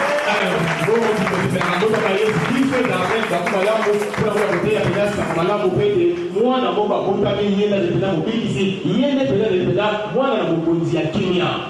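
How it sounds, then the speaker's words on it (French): A church congregation applauds and cheers loudly for Jesus during a service, dense continuous clapping mixed with shouts and voices that swell and stay energetic throughout. "acclamez pour Jésus"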